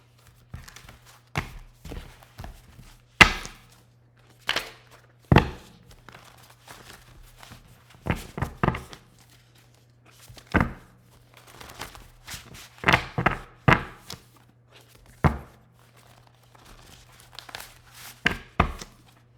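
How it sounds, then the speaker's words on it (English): Handmade index cards are shuffled in scattered bursts of papery riffling, slapping and tapping that sound close and fairly quiet, with gaps of near silence between them and no talking. "Y'all, it's hard to shuffle these index cards."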